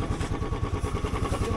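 A Royal Enfield Himalayan motorcycle engine runs steadily on a snowy winter road between Spiti and Manali, a close, throbbing low exhaust pulse with a regular chugging beat and no voices.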